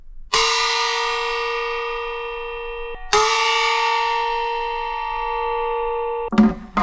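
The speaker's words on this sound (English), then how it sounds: "a lot of them were using this to hit the opera gong. And it sounds way better, I think." A Chinese opera gong is struck twice with a beater, each hit giving a bright metallic clang with a pitch that bends as the long ringing tone decays, followed by a short clattering handling noise at the end.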